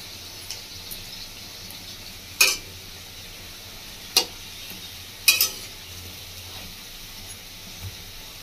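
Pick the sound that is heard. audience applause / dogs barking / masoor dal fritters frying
masoor dal fritters frying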